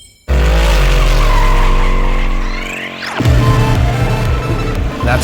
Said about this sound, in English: That's why I burned the shit out of my tires.